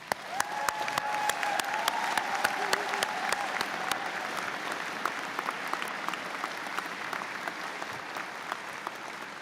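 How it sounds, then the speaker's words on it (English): Applause from a university convocation audience in a large hall, sustained and even across nine seconds, with a few sharper nearby claps standing out against the broad crowd sound. "Can we have a round of applause for him?"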